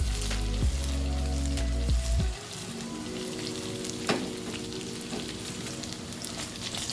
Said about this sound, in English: Let's fry the tofu pieces until they're nice and golden.